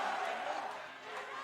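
A large esports arena crowd roars and cheers at the 2022 Worlds group-stage League of Legends match between EDG and T1, a dense continuous din with a commentator talking over it.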